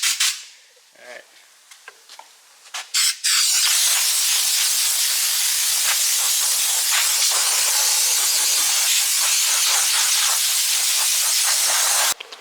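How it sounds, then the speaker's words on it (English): Air compressor feeding a long hose blasts compressed air in a loud, sustained hiss after a few short preliminary bursts and quieter noises, the rush holding steady for about nine seconds before cutting off abruptly. "Got air compressor hooked up to this long ass hose."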